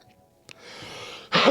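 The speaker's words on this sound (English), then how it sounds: "the break is me coughing." A man on a live morning show coughs during a break: one short sharp cough, a hoarse rasping stretch, then a loud forceful cough close to the microphone.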